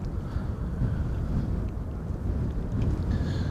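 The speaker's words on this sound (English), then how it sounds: "Here's Suparna Airlines 747 taking off to Nanjing in China." A Suparna Airlines Boeing 747 takes off at Amsterdam Schiphol in a crosswind, a loud, steady low rumble of jet engine roar mixed with wind buffeting, and no voices.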